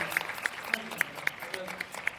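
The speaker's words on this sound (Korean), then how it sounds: "오늘 좋은 강의 해주신 김성욱 교수님께 다시 한번 뜨거운 박수 부탁드립니다." Sparse, evenly spaced claps from a lecture audience, each sharp and distinct rather than a dense roar, with murmured voices faintly underneath.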